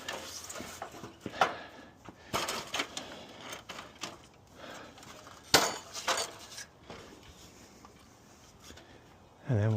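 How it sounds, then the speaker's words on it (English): A hammer taps a metal seamless gutter, giving a few sharp, ringing metallic knocks spread unevenly through the stretch, with quieter handling clatter and some talking in between. "I'm going to go over here and tap on it with a hammer"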